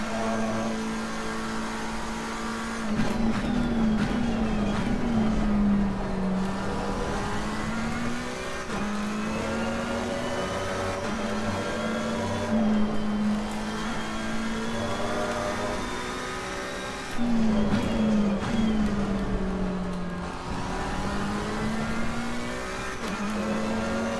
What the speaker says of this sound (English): But for all this car's screaming away